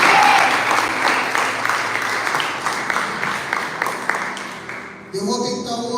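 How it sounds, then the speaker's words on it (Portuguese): A church congregation applauds loudly and steadily in a sustained burst that fades near the end, when a brief musical tone enters. "Você pode aplaudir a Jesus por isso?"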